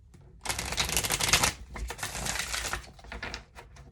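Tarot cards are shuffled briskly up close, a loud riffling burst followed by softer continued shuffling and a few taps.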